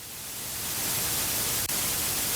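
Car radio static in a video game, a steady hiss of broadband noise that rises slightly and holds, with one brief dropout near the end, heard alone.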